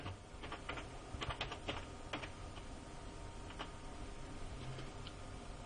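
Typing on a computer keyboard at a home flight simulator cockpit setup: a quick burst of crisp, close key clicks early on, then a few scattered taps over a faint steady hum.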